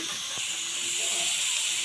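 Fish frying in hot oil right after being flipped in the pan, a continuous bright hiss and sizzle at close range, steady in level with no talking.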